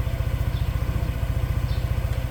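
A new Daelim motorcycle, a Suzuki-based model, idles close by with a steady, even throb. The low pulsing goes on alone for the whole moment.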